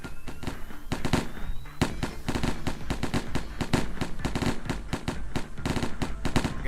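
Rapid, loud bursts of gunfire from the video game Lobotomy Corporation, dense volleys of shots crackling almost without pause throughout, with no talking over them.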